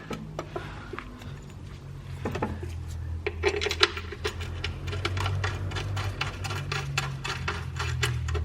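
Bolts with lock washers being run into a Corvette frame for a no-flex frame kit, a rapid close metallic ratcheting and clicking over a low steady hum.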